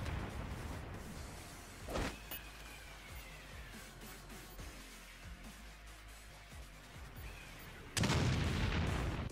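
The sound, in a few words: grenade explosion in video game Umbrella Corps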